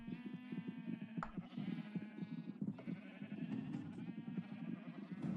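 Minecraft sheep bleat repeatedly in a quavering chorus over a steady game background, several calls overlapping at moderate volume.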